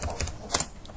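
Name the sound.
typing a Hadoop command on a computer keyboard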